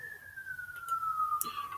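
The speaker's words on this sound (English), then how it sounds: "Oh, that police siren." A police siren wails at a distance, one long falling tone steady under a faint room background, with no talk over it.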